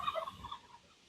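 A flock of hens and roosters clucks and squawks close by, with several overlapping calls that fade out toward the end.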